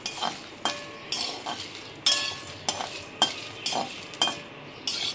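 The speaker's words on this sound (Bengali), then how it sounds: "এবার এটা ভাজা মশলাটা ভেজে তারপরে এটাকে গুঁড়ো করে নিতে হবে।" Cumin and a little fenugreek dry-roasting in a pan, with repeated scraping stirs and metallic clinks of a spoon against the pan in an uneven rhythm over a faint sizzle, close and fairly quiet.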